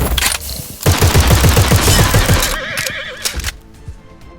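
Cavalry horses in the war game Glory Frontline neigh and whinny loudly over galloping hoofbeats and bursts of machine-gun fire, the shrill whinnies and rapid clip-clop fading toward the end.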